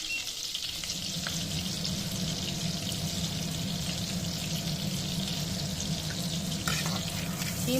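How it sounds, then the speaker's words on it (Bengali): A kitchen chimney exhaust hood runs with a steady, loud whirring drone and low hum, while oil sizzles in a kadai where prawns with taro stolons are being cooked, all without speech. "বন্ধুরা ভাববে যে কিসের আওয়াজ হচ্ছে এটা কিছুরই আওয়াজ নয় আমাদের চিমনির আওয়াজ"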